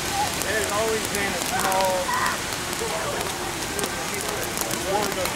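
Rain coming down fairly heavily outdoors makes a steady, dense hiss throughout, with someone talking over it.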